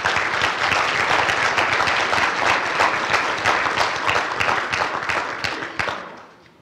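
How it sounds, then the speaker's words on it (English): An audience at a college signing day ceremony applauds nursing students, with dense, steady clapping that holds for several seconds and then tapers off at the end. "please join me in applauding the next generation of nursing professionals"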